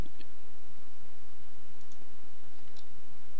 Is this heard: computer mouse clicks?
yes